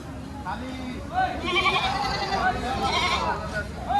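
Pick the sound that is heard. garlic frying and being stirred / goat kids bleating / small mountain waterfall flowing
goat kids bleating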